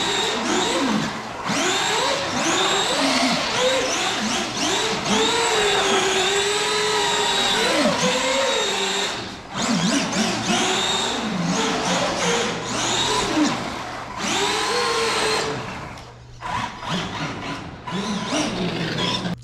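Arrma Gorgon 2-wheel-drive RC car's electric motor being broken in, whining loudly and steadily with rising and falling revs and brief dips, close up throughout.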